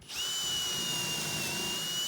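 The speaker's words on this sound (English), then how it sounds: "we're going to drill in some pocket holes at the top and the bottom of the side pieces" A power drill runs steadily while drilling pocket holes with a Kreg jig into pallet wood side pieces for a picture frame, one sustained high whine lasting the whole clip, loud and close with no talking.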